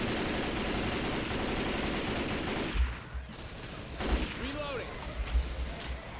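Rapid bursts of gunfire in the zombie shooter Left 4 Dead 2, dense loud firing for several seconds, then scattered shots as players talk over it.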